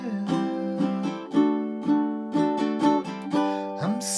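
Ukulele strumming the chords of a song, a steady rhythmic strum of bright chords with regular accents, close and clear, no voice.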